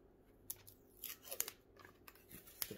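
Plastic cover film peeled off an eyeshadow palette, a quiet run of crinkly tearing and crackling with several sharp snaps, close and alone.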